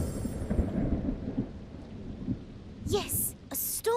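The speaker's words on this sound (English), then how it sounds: "Yes, a storm. Just like before." A cartoon thunderstorm: low rumbling thunder and steady rain hiss fill the first part, then sharper bright bursts and crackles break in near the end, moderately loud.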